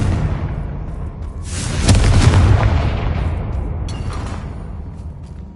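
A Confringo blasting spell explodes in Hogwarts Legacy with a loud, booming burst that swells and then rolls away over several seconds, heard alone without talk.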